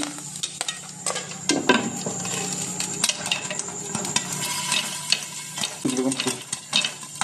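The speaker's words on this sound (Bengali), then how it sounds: "দেখতে পাচ্ছেন কিভাবে ফুটছে, সব ফুটে ফুটে উপরে উঠছে" Corn kernels burst into popcorn inside a covered pan at home, giving a dense run of sharp pops and rattles over a steady frying sizzle, close and fairly loud throughout.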